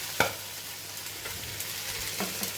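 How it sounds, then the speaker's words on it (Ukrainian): Rabbit frying in a pan with onion, garlic and rosemary, stirred with a sharp scrape at the start and more scraping later over a steady background sizzle. "Це гарненько перемішуємо."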